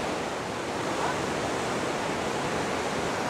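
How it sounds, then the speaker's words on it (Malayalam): The Silver Cascade waterfall at Kodaikanal, swollen with floodwater, gives off a steady, dense roar of rushing water that fills the whole stretch without pause. "എത്ര രൂക്ഷമായ അവസ്ഥയിലാണ് ഈ സിൽവർ കാസ്കേഡ് വാട്ടർഫാൾസ്"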